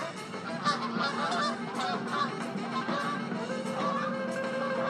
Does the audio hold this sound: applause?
no